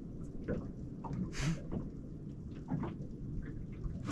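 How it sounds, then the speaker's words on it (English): Rain falling steadily with thunder rumbling nearby during a storm, a continuous wash of rainfall and low rolling booms close by, no talk. "Looks like it's raining like, right in front of us."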